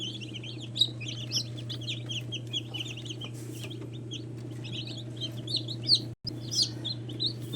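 Newly hatched Rhode Island chicks, wings still damp, chirp in a steady overlapping chorus of high peeps over a constant low hum, close and continuous.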